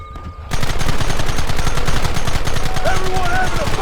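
A loud, dense shootout in the Red Dead Redemption video game, with rapid gunshots firing continuously in close succession after a brief quieter moment at the start.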